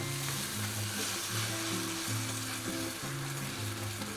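A gumbo omelette sizzling in a pan just after the flip, a constant loud frying hiss close up with a faint low hum underneath, and no talking.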